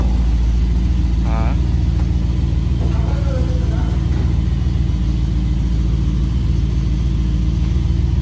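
A Mercedes-Benz G 500, a 2021 model, is driven in with a steady low engine rumble that stays loud and constant throughout, with brief speech over it.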